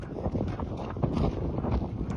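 Outdoor wind rushes steadily and buffets the microphone with low, rumbling gusts, loud and continuous with no talking.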